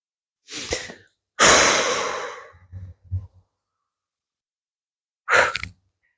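A deep inhale followed by a long, forceful exhale while lowering a cushion from overhead during an anger-release exercise, then a few short breathy sounds and a final sharp breath, close and alone.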